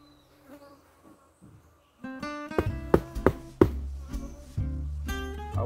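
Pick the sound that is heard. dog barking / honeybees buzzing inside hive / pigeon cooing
honeybees buzzing inside hive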